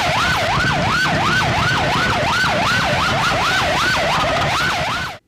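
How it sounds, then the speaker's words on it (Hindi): An ambulance siren wails on a broken, damaged city road, rising and falling in a steady fast cycle about a dozen times, loud and close, then cutting off abruptly at the end, with no voices. "सायरन बजाती मरीजों की जान बचाने के लिए दौड़ती टूटी सड़क में फंसी रास्ता मांगती एम्बुलेंस"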